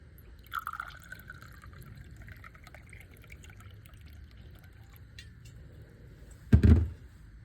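Bourbon poured into a cocktail glass for a satsuma old fashioned: a faint, thin trickle of liquid early on, followed near the end by a short, louder thud.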